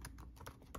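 Quick keystrokes on a computer keyboard, about five faint taps in rapid succession, typed on a Windows 10 computer with no voice over them.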